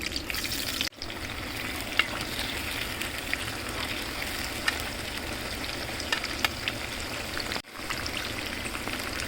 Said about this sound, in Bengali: তেলটা আমার গরম হয়ে গেছে আমি আলুগুলো দিয়ে দিলাম